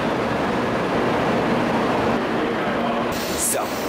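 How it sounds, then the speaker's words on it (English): Train pulling into a station in Osaka, Japan, a steady broadband rumble and rolling hum with a faint high squeal near the end, heard close and continuous without talk. "my train just arrived"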